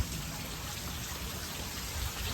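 Steady, dense monsoon rain pours down continuously over farm fields, a loud, even hiss of water hitting surfaces with no pauses and no voices.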